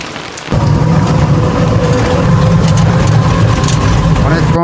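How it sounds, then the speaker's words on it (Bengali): Heavy rain pours down steadily with a low rumble of thunder beneath it, starting abruptly after a quieter half-second and continuing loud and dense throughout. "প্রতিদিনই বৃষ্টি হচ্ছে"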